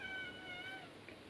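A single soft, drawn-out cat meow close by, with a quiet background and no talking.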